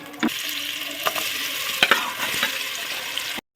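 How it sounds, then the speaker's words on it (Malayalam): Sliced onions sauté in ghee and sunflower oil for Thalassery dum biryani, a steady close sizzle broken by a few scraping stirs of a spoon in the pan, with no voices. "ഒന്ന് ചൂടായി കഴിയുമ്പോൾ സവാള വഴറ്റാം."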